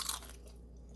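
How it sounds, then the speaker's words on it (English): Crunchy tortilla chips topped with black beans being bitten and chewed close up, a loud crisp crunch in the first fraction of a second fading into quieter chewing. "You want your chips to be crunchy."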